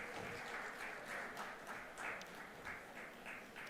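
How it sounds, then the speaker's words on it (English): Sustained audience applause at a women's summit in Tamil Nadu, a dense even wash of many hands clapping steadily throughout, fairly distant and moderately loud with no voices over it. "Can we have a round of applause for Dr."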